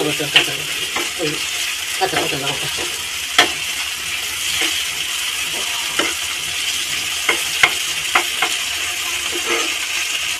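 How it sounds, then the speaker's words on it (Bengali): Onions frying with ginger and cumin paste for a pangas fish curry, an even close sizzle under repeated spatula scrapes and occasional sharp clinks against the pan. "এবার দিয়ে দেবো আদা আর জিরে বাটা, দিয়ে বেশ কিছুক্ষণ কষিয়ে নেব"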